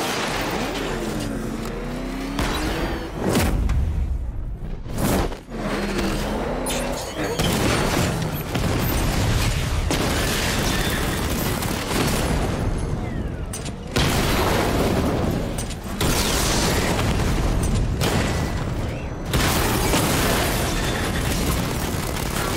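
Tank-mode Batmobile in Batman Arkham Knight firing its 60mm cannon at heavily armored drones: repeated loud booming shots with sharp broadband bursts over constant engine rumble and battle noise, with game voices talking throughout.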